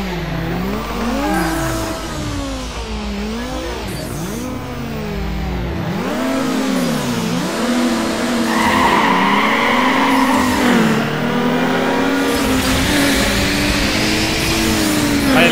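Turbocharged Subaru in a Need for Speed Underground 2 drag race, its engine revving and climbing through gears loudly and continuously, with tire squeal and rising pitch sweeps as it accelerates; no talking.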